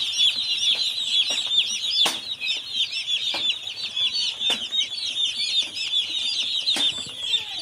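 Many chicks and chickens inside a curtained enclosure with water bowls, a continuous chorus of high cheeping and clucking, close and busy, with scattered soft knocks and thumps.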